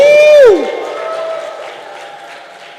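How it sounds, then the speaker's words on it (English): A single loud whoop from one voice at an aviation industry congress gives way to a large audience's applause and cheering, which stays broad and steady, then slowly fades. "give me a round of applause and a shout"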